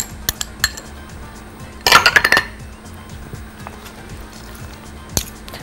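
Beetroot and chopped parsley salad being stirred in a bowl: a burst of close clinking and scraping of a utensil against the dish, with a few scattered light clinks before and after, and no talk.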